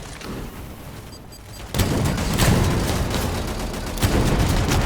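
Turret gunfire in the Angels Fall First video game opens up after a quieter start, loud rapid bursts hammering on close by with sharp repeated blasts over a rumbling battle background.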